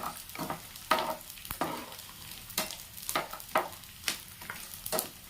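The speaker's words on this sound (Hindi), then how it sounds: "गैस को मैंने मीडियम कर दिया है, इनको अच्छे से इस तरह से फ्राई कर लेते हैं" Edible gum (gond) frying in a pan over a medium gas flame, a steady close sizzle broken by repeated sharp stirring scrapes and crackles, with no talking.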